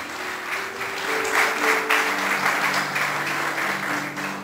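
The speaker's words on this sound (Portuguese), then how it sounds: "Você pode aplaudir o Senhor por isso, por essa palavra." A church congregation applauds at a sermon, a steady dense wash of clapping that swells slightly midway and holds throughout, with faint musical tones sustained beneath it.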